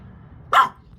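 A single sharp dog bark rings out close by after a quiet moment, followed by the start of another.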